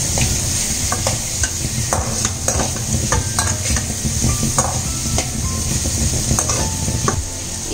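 Food frying and being stirred in a pan for a Kannada mandakki vaggarane dish, a steady sizzle with repeated scraping and clinking of the spoon against the pan, close and clear with no speech.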